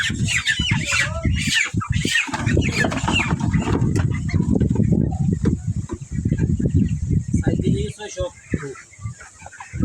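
Fresh broiler chickens from a farm squawk and cluck almost continuously, close and fairly loud, their calls overlapping with people talking throughout.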